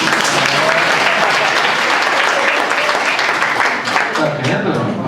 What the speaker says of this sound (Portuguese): Cadê as palmas para eles?